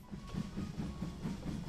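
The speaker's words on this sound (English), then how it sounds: "the one thing about the train is that it's kind of, well, in Anton's words, it's kind of janky" A train ride in the VR game Hot Dogs, Horseshoes & Hand Grenades, with a rhythmic clickety-clack of wheels over rail joints and a low rumble, heard alone at moderate volume.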